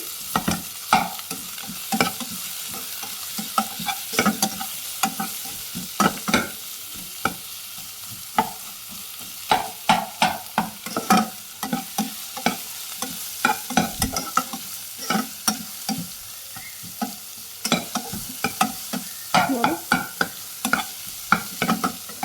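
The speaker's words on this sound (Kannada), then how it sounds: "ಆನಿಯನ್ ಎಲ್ಲ ಗೋಲ್ಡನ್ ಬ್ರೌನ್ ಆಗೋ ತನಕ ಫ್ರೈ ಮಾಡ್ಕೋಬೇಕು" Sliced onions frying in a pan toward golden brown, with a continuous sizzle and frequent rhythmic stirring clicks and scrapes, close and fairly loud, no talking.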